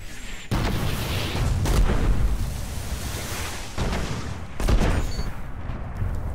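Sniper shots and gunfire in Destiny's Iron Banner multiplayer: a loud sharp crack opens, then heavy sustained bursts of gunfire with further booming shots around 1.7 and 4.7 seconds, filling the whole stretch with dense battle noise.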